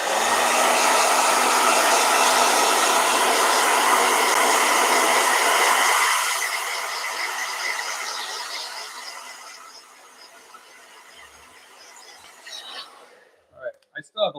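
A blow dryer roars steadily up close with a loud, broad whoosh, then drops to a softer hiss after several seconds and cuts off, followed by a few brief clicks and bumps.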